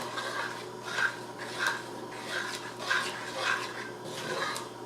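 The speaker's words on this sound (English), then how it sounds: "Mix it up real well." Spaghetti sauce being stirred with Italian seasoning, a soft repeated scraping and swishing of a spoon against the pot at a slow even rhythm, quiet and close with a low steady hum beneath.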